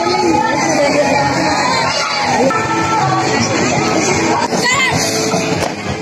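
Crowd of schoolchildren shouting and cheering loudly at an Independence Day school marching parade, a dense, continuous roar of young voices with yells rising and falling throughout.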